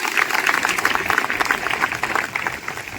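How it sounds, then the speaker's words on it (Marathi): An audience claps for the teachers at a Republic Day ceremony at a rural district council school. The applause is dense and lively, with many hands clapping at once, and it rises and falls slightly. "सर्वांनी आमच्या सर्व शिक्षक बंधू भगिनीसाठी एकदा जोरदार टाळ्या वाजवाव्या"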